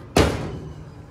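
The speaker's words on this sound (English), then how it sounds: "close the lid" A single loud thud as the lid of an old pea sheller for shelling purple hull peas is closed, with a short fading rumble after the impact and no talk.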